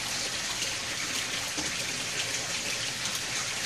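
Water flows steadily through a greenhouse aquaponics fill and drain system, a continuous close gushing and trickling with no breaks or voices.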